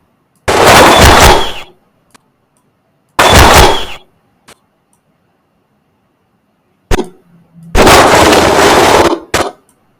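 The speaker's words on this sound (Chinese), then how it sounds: "落地的声音我们用这个也可以" Three loud, sharp bursts of noise, each lasting about a second and separated by silence, with small clicks and a short thud between them; editing sound effects used for something hitting the ground.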